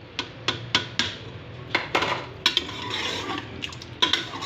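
A spoon stirs spices into yogurt in a cooking pot on a low flame, giving repeated metallic clinks and scrapes against the pot, close and fairly loud with a soft wet churn between strokes.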